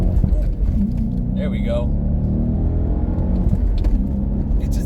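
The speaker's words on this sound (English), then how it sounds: "It's a V8 sedan with a loud exhaust." An Audi S4 V8 sedan engine with a loud exhaust rumbles deeply and revs up with a rising exhaust note, up close, while people talk over it.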